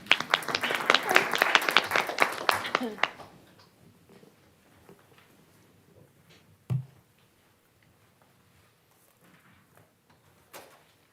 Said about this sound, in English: We can give him a round of applause, folks